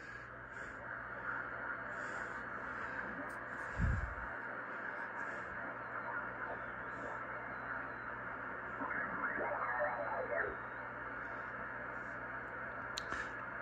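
Yaesu FT-102 amateur radio tuned to a station on the 40 meter band, giving a steady hiss of static with faint, muffled signal and brief warbling chirps, plus a low thump partway through.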